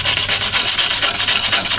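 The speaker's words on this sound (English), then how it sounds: "taking a wire brush and scraping away as much surface rust and imperfection as we can" A wire brush scrapes surface rust and old paint off a car's body metal, making a steady, close, continuous harsh rasp with a slight back-and-forth pulse and no pauses.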